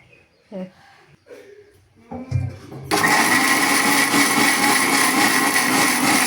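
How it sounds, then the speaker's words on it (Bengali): An electric kitchen blender grinds an onion and garlic spice paste for a home-style chicken curry, starting up loud after a few seconds of quieter kitchen clatter and then running as a steady, dense whir to the end. "আমার মশলাটা ব্লেন্ডার করা হয়ে গেছে"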